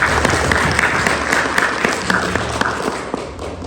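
A church congregation at an Easter celebration service breaks into applause, a dense, sustained wash of many hands clapping together, loud and continuous throughout with scattered sharper claps standing out.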